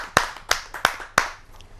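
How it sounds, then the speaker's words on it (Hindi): At a Hindi poetry gathering, four sharp, separate hand claps ring out at an even pace, close and clear with quiet gaps between them, as listeners welcome a poet. "आप सबकी जोरदार तालियों से आमंत्रित करते हैं।"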